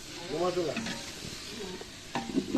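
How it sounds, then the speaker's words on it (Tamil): Chicken biryani masala with coriander and mint leaves being stirred in a hot pot, a soft scraping and sizzling texture with a few ladle strokes, close by, with brief background voices. "இப்போ நம்ம மல்லி இலையும் புதினாவும் போட்டாச்சு. நல்லா கிண்டி அடிக்கலாம்."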